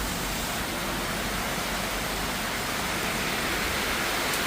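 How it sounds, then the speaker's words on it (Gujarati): Heavy rain pouring in a dense, even roar, loud and unbroken from start to finish, with no voices. "જોરદાર વરસાદ પડે છે મિત્રો."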